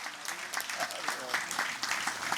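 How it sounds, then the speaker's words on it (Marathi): An audience claps together at a felicitation ceremony honouring literature, culture and the arts, with dense, steady applause filling the short stretch without a break. "टाळ्या वाजवून आपण त्यांना अभिष्ट चिंतन करूया."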